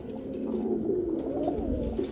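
A pigeon coos in short soft throaty pulses close by, a low warbling call repeated through the moment, with no voices over it.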